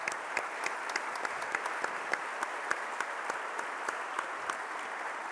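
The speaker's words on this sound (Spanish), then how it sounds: "un fuerte aplauso para la familia también" Steady applause from a podcast audience gathered for a live interview, a dense even wash of clapping with a few sharper individual claps standing out, moderately distant and continuous throughout.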